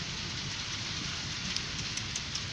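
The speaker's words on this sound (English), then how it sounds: "God, it's raining." Rain falls in Abu Dhabi as a steady, even broadband patter and hiss, fairly quiet and continuous with a few faint drip ticks, no talk over it.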